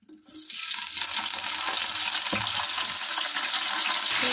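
Mustard seeds, urad dal and curry leaves crackle and sizzle in hot oil for a fish curry, a steady dense hiss running throughout at close range with a few low knocks of the pan, no voices.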